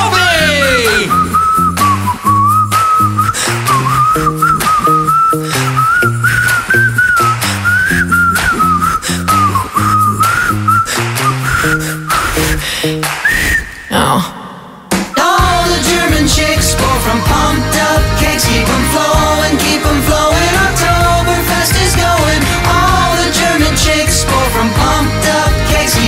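A bright, sustained whistled melody carried over a steady band accompaniment, loud and continuous, with a brief break before the music picks up again.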